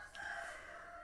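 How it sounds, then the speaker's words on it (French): A rooster crows faintly in the distance near an agronomic sciences school, one sustained call over quiet background hiss. "chants de coq."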